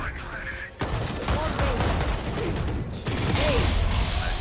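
Rapid gunfire from the video game Valorant, dense bursts of shots running almost continuously over a busy in-game mix, with a brief lull before it swells again.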